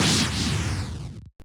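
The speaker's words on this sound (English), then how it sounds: "and the range attack sounds like this." Jad's range attack in Old School RuneScape, a roaring whoosh with a heavy low rumble that sweeps down and fades out after about a second, followed by a short faint tail.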